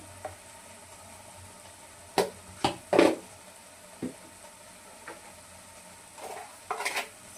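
Spices and salt being stirred into a pan for crab curry, with a few sharp spoon scrapes and clinks against the pan over a faint background sizzle, no talking.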